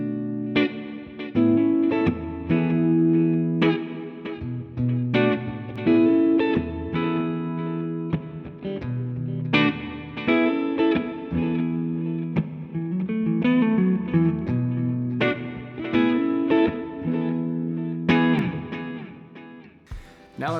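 A 2018 Gibson Les Paul Standard electric guitar played clean through a Fender Deluxe Reverb amp, with ringing chords and single notes in a loose strummed rhythm, close and fairly loud, with no one talking.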